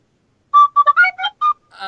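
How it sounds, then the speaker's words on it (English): Gaelic tin whistle playing a short run of bright, breathy notes, each clearly separated with a quick staccato rhythm, close and fairly loud, with no talking. "it's just like a Gaelic tin whistle"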